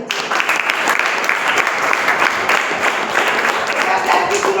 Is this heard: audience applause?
yes